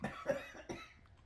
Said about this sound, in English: my mom's coughing on a little thrift dust.